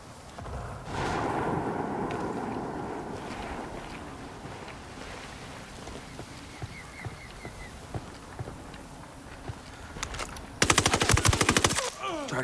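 Rapid automatic gunfire from submachine guns in the Ghost Recon Wildlands video game comes in a loud close burst near the end, after a stretch of wind-like rumble and scattered faint shots.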